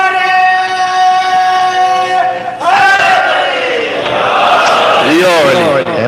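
Shia congregation at a majlis in Kuwait chanting religious slogans together, a loud unified shout of many voices that follows a sustained tonal sound, with voices swelling and overlapping toward the end.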